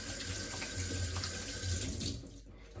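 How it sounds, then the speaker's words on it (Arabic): Kitchen tap water runs steadily into a sink as hands are washed with soap, a close, continuous splashing stream that fades out near the end. "البيض ملي كنمسوه خصنا نغسلو ايدينا بالصابون"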